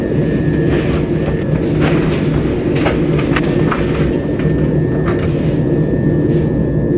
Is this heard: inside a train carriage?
yes